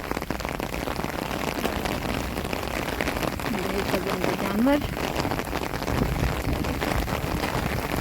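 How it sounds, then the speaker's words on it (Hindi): Rain falling in a village, a steady dense hiss of drops on surfaces throughout, with someone speaking briefly over it and a faint animal call in the middle. "गाँव में बारिश हो रही है"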